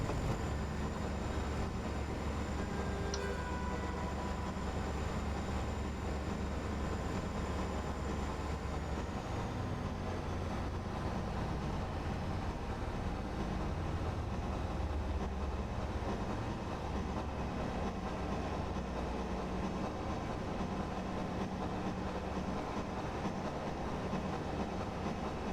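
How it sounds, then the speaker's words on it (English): A train passes through a tunnel in Train Simulator with a sound enhancement pack, giving a continuous, dense rumble and rattling roar that holds steady throughout with no talk. "the sound is a lot more realistic. It's more akin to what you expect going through a normal tunnel"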